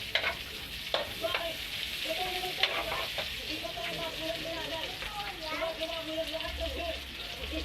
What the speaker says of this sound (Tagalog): Lagyan na oyster sauce